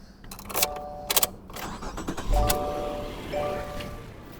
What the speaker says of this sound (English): And now I'm gonna start my car.